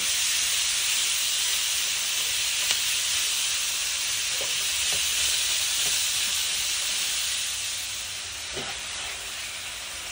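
Vegetables for pasta jambalaya sauté in a pan, giving a steady, dense hiss of sizzling that runs unbroken throughout and eases slightly near the end, with a few faint clicks and no talking.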